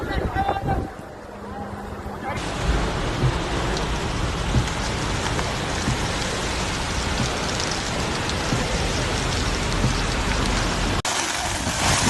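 Heavy, continuous rain pours down in the Jizan region of Saudi Arabia during severe flooding, a dense steady hiss of water that stays loud throughout, with a brief quieter stretch at the start.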